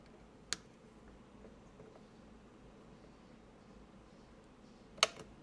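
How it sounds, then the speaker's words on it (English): A zip tie holding a graphics card in a PC is cut. Two sharp, faint clicks about four and a half seconds apart stand out against a quiet room. "I'm just gonna go ahead and cut that."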